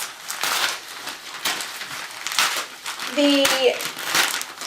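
Crinkling wrapping being pulled off a newly bought book, a soft steady papery rustle running throughout, with a voice speaking over it.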